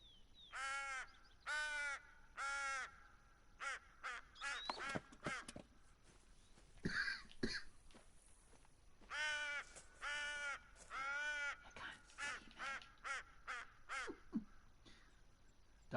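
Crows caw repeatedly in the hunting video game The Hunter: Call of the Wild, loud harsh calls in quick bursts and pairs, some overlapping, against a quiet background.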